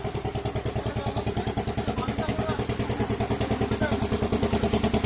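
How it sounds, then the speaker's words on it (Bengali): On Ghoramara Island a generator runs nearby to power puffed rice roasting where there is no mains electricity, its engine chugging in a loud, steady, rapid pulse throughout with a voice talking over it. "আর জেনারেটরের আওয়াজ শুনতে পাচ্ছ"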